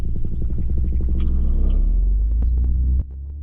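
A paramotor engine runs loud and steady at close range with a deep throbbing drone during launch, then cuts off abruptly near the end, leaving a lower rumble.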